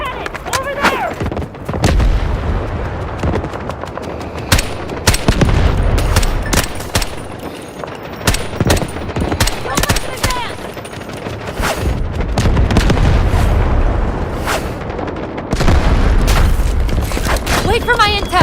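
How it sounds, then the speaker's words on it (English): Heavy bursts of enemy cannon and gunfire boom repeatedly, loud and close, over a dense battle din with shouted voices mixed in, in the video game Delta Force. "Enemy cannon! Over there!"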